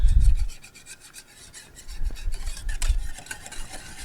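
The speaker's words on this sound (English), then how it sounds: "And then I'll continue stirring" A pot of pork gravy is stirred with a utensil, giving steady rasping, scraping strokes against the pot with a few heavier knocks near the start, fairly close and with no talk over it.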